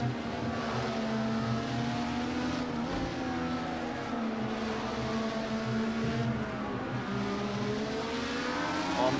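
An IndyCar engine in Project CARS 2 drones steadily on track at COTA, a continuous close whining engine tone with shifting pitch glides across the run and no talking.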